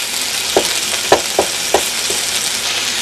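Sausages frying in a pan under a steady, loud sizzle, with a few sharp clatters and scrapes spaced about half a second apart as they are turned, and no talking.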